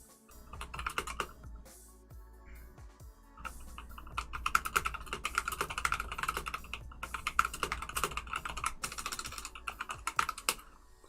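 Rapid typing on a computer keyboard during VRChat avatar work, dense clattering keystrokes running steadily throughout, close and fairly loud with brief pauses, no talking.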